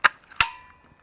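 A hole punch snaps through a polycarbonate RC car body shell, giving two sharp, close bangs about a third of a second apart, each with a short ringing tail.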